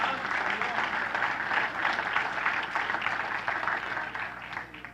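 A congregation claps loudly during a church sermon, a dense, steady wash of applause that fades toward the end, with voices mixed into the noise.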